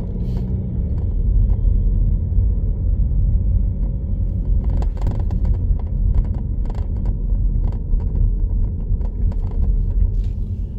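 A car drives along a narrow street on a Bobigny driving-exam route, its engine a close, steady low rumble heard from inside the cabin, with light rattles and clicks.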